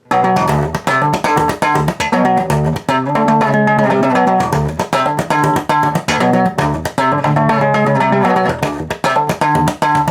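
Loud strummed power chords on a bass guitar ring out in a steady rhythm, each chord struck several times before the pattern steps down in pitch. No voices.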